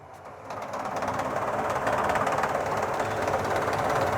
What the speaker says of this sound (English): I can now put the machine into auto mode